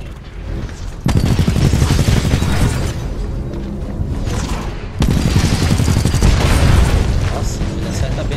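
Dense, loud bursts of rapid gunfire with booming impacts from the video game Titanfall 2, two sustained volleys separated by a sharp onset, with a voice speaking faintly underneath.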